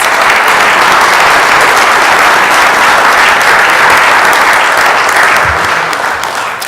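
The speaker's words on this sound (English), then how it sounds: "So please, a huge round of applause for the certified level maps." Loud, sustained applause from an audience at a city council regular meeting, dense and steady throughout before tapering slightly at the very end.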